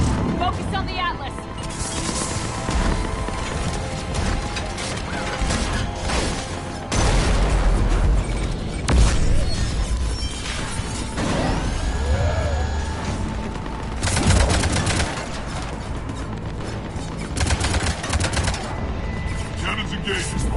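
Spaceship cannons in a sci-fi video game fire heavy repeated blasts and booms over a busy battle soundscape, with louder surges partway through.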